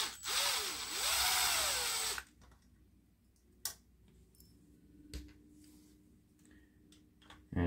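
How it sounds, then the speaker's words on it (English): A powered screwdriver whirs loudly for about two seconds as it backs out screws from the top of a 17-inch black-and-white Apple monitor. Quiet clicks and scattered metallic taps from handling the parts follow. "We'll remove the two screws on top here."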